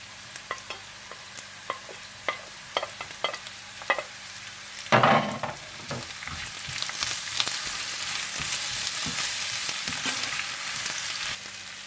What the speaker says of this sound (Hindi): जब इस तरह से आलू थोड़े से ब्राउन हो जाएं और गल जाएं तो आप इसमें प्याज डालकर थोड़ा सा पका लें